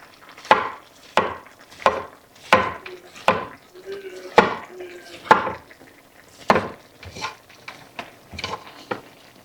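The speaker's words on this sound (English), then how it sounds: "So I'm slicing them a little thinner than I usually do." A knife slices mushrooms on a wooden cutting board in a home kitchen, giving a steady series of crisp, close cuts about every half second, each a sharp knock of blade meeting wood.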